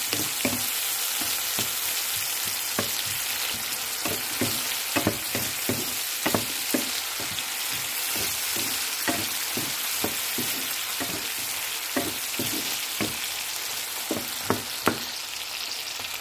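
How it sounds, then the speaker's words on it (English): Eggplant and tomato stir-fried in a pan give a constant close sizzle, punctuated by repeated sharp scraping and clacking strokes of a utensil against the pan, irregular and steady throughout. "Then add the tomato and continue cooking for 3 minutes."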